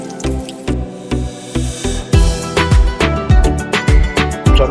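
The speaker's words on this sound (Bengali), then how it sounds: "এবার যেটা করবো সেটা হচ্ছে আলুটা যে কেটে রেখেছি আলুটা ভাজবো" Washed, cut potatoes dropped into hot sunflower oil sizzle and spit loudly, with repeated sharp pops and crackles coming in quick irregular bursts close to the pan.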